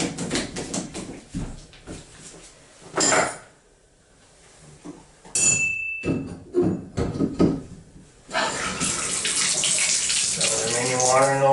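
Water trickling and splashing as leftover water drains from the line of a Moen Posi-Temp shower valve during cartridge replacement, coming in uneven gushes with metallic handling clanks and a steady rushing flow toward the end.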